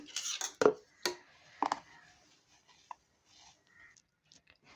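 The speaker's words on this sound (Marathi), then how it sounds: "मी आता हे मिक्स करून घेते" Rava cake batter being mixed with milk in a bowl: a few sharp clinks of a spoon against the bowl near the start, then faint, sparse scraping and taps, with no talking.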